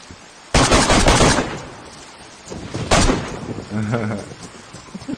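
Gunfire in the DayZ video game: a loud sustained burst of rapid shots, then a second short burst a moment later, followed by quieter clatter and a brief tonal game sound.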